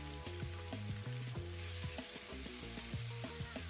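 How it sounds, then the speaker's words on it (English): Scallops searing in a hot pan during the making of a creamy seafood pasta give a steady, loud, crackling sizzle, with stirring clatters and pan noises over it and no talking. "you want to hear that sear"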